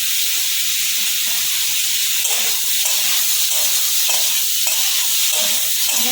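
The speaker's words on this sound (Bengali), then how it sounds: "ভালো করে নেড়ে করে নিচ্ছি" Chinese-style soybean soup being stirred in a pot, with a steady bright hiss and sizzle and faint scraping throughout, no voices.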